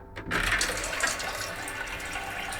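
A high-tech Japanese toilet's bidet sprays water in a steady hissing rush that starts abruptly and continues close by, without talk.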